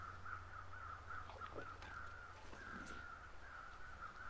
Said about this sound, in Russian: Так, там 3 птицы просто так летают